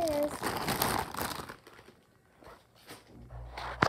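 A plastic bag crinkles as a Baby Keisha doll is unwrapped, close, busy rustling that fades to softer scattered crinkles, with a voice speaking over it.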